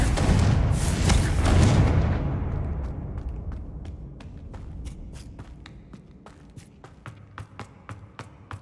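A Confringo fire spell bursts in Hogwarts Legacy with a loud booming blast that rumbles and slowly fades over a few seconds, followed by a run of light, sharp footsteps and clicks.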